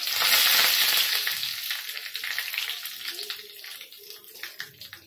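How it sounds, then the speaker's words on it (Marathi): Mustard seeds and asafoetida sizzle loudly in hot oil for a tempering, with a bright hiss that starts strong and then settles into crackling pops. "इथे थोडं हिंग टाकूया आपण, थोडी राई टाकली आहे"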